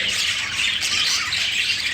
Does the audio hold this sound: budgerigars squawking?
yes